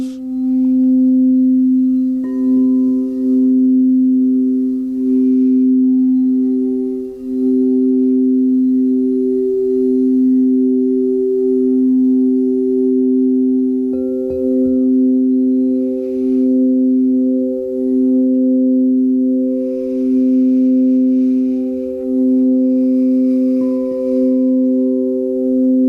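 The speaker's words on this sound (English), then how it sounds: "Allow yourself to bathe in the sound of the bowls." Harmonic singing bowls ring in a steady, sustained drone with pulsing, wavering overtones, layered strikes blending into a continuous shimmering tone for a long stretch, no voices.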